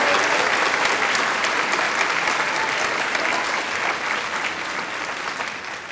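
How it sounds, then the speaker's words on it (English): Audience at a school installation ceremony gives a sustained warm round of applause, a dense even wash of clapping that stays loud and steady before slowly easing off. "Let's give them a warm round of applause"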